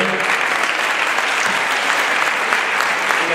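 Steady, dense applause fills a graduation ceremony for the 2013-14 school year, a continuous wash of clapping from a crowd with no break.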